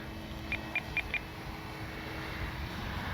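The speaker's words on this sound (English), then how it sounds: "I just want to see how the plane flies, what kind of trim she needs." An FMS Ranger 1800mm radio-controlled plane on its maiden flight, its steady distant motor drone running under outdoor wind noise, with four short high beeps from the transmitter early on.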